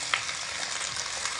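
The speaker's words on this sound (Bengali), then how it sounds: "এখানে গোটা যে শিম রয়েছে কেটে ধুয়ে রাখা শিমগুলোকে প্রথমে দিয়ে ভেজে নেব এবং একই সঙ্গে আলুগুলোকেও ভেজে নেব" Cut flat beans and potatoes frying in a pan, a dense continuous sizzle over the short stretch with a faint scrape near the start, no voices.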